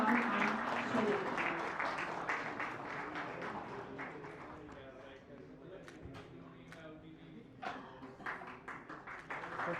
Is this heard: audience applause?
yes